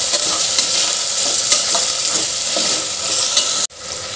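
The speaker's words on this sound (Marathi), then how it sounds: "बटाटा पण छान परतून घेऊ आपण।" Potato and onion frying in oil in a pan, loud and steady sizzle with stirring scrapes throughout, cutting off sharply near the end.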